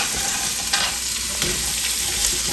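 Steady, fairly loud sizzling of vegetables frying in a pan, with occasional scraping and clinks as they're stirred around.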